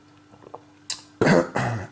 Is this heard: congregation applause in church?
no